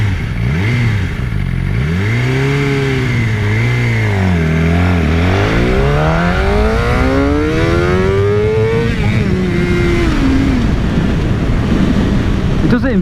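Suzuki GSX-R 600 L3 motorcycle accelerating hard from a standstill to 60 mph, loud close onboard engine note rising steeply through rapid gear changes, with heavy wind rush behind it.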